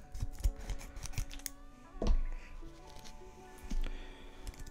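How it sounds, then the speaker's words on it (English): Scissors cut across the top of a Digimon card booster pack in short crisp snips and crinkling foil rustles, with a few sharper clicks close up, alone and without talk. "So I can go ahead and cut the top without cutting the card itself"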